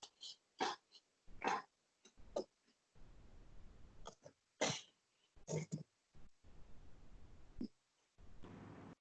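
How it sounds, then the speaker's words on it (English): Repeated coughs and throat clearing in short bursts, close and fairly loud, with breathy pauses between them. "I'm coughing."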